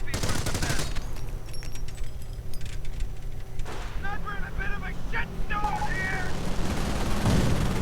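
.30 caliber machine gun fire in a World War II real-time strategy game comes as dense, rapid bursts mixed with other battle noise, with a commentator talking over it.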